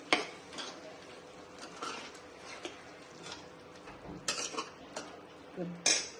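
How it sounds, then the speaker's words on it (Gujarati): Boiled mung beans being stirred and mixed in a pan, with a spoon scraping and clinking against the metal in irregular strokes, close and fairly quiet, sharper clanks near the end, no voices. "આ બધાને સરખું મિક્સ કરી લઈશું"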